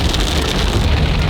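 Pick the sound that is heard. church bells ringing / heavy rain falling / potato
heavy rain falling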